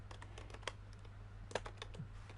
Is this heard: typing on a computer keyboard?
yes